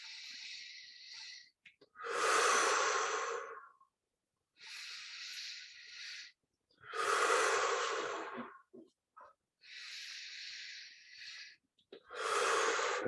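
Forceful deep breaths during a Bhastrika breathing exercise in guided meditation, with loud rushing inhales and exhales in a slow steady rhythm, close and alone with no talk.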